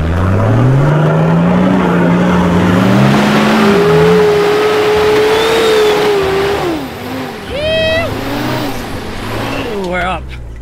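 A 4WD vehicle without a locker climbing a muddy rut section, engine revving loud and close, rising and holding in pitch under strain before easing off, with voices shouting over it near the end.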